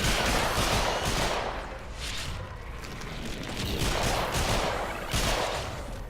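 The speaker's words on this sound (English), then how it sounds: "I did not mean to shoot my gun at the time." Rapid gunfire in the Warframe video game during a Corpus mastery rank test, loud dense bursts of shots and blasts filling the whole span with only brief dips.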